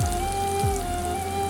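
Steady close sizzle of onions and potatoes frying together in oil with dried red chillies, a continuous crackle with a couple of soft low bumps and no voices.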